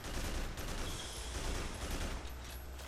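Rapid gunfire in the video game Haze sounds as a continuous dense fusillade of shots, steady and fairly loud throughout with no voices.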